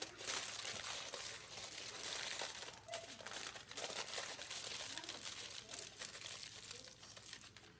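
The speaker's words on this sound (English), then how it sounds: "wrapping it up in tin foil so none of this flour actually gets inside this battery pack" Tin foil crinkles and crumples steadily as it is wrapped around a battery pack. The sound is close and quiet, with no pause.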